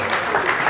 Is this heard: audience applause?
yes